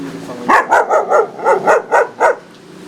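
A dog at a military checkpoint barks seven times in a quick, even series, loud and close, with a short whimper-like tail and quiet background afterward.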